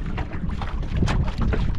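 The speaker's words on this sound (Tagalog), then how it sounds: "Grabe, mahangin pa rin talaga." Strong outdoor wind buffets the microphone in a loud, steady low rumble with rushing gusts, near and constant, with no speech heard.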